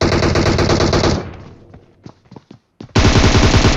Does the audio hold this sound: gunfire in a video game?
yes